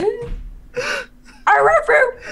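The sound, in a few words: dog barking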